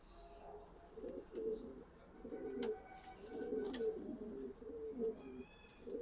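Big racing pigeons in cages coo in repeated low, throaty bursts, close and fairly clear, with faint chirps and background rustle between phrases.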